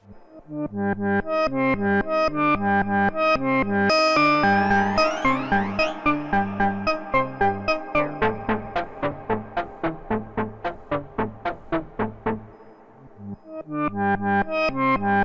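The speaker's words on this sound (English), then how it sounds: "A copy of the audio is sent to a delay" A plucked, synthetic melodic voice repeats in rhythmic pulses with a wobbling, echoing delay that smears pitch, briefly thinning into staccato notes before returning full.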